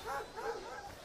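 A dog in an anime episode gives two quick yapping barks close up, followed by a softer whine, brief and fairly quiet.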